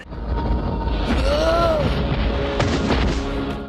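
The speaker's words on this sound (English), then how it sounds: "There was a random explosion though, I'll give it that." A deep rumbling blast from an action scene in the 1990 film Prayer of the Rollerboys, a sustained roar of fire and debris lasting several seconds, loud and full, with a whine and crackle running through it.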